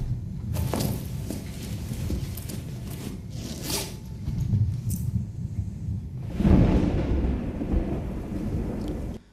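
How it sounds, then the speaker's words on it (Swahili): A thunderstorm with heavy rain: steady rain hisses throughout while thunder cracks and rumbles several times, with a strong, close clap building near the end. "nje kuna mvua kubwa kweli kweli, huku radi ikiwa inazidi kuweza kukumuta"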